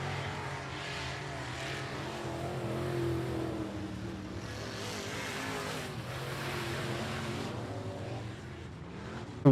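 Race cars at I-37 Speedway, a dirt track, in a USRA Tuners heat race, their engines droning from a distance as they pass under a green flag, a steady moderate roar without talking.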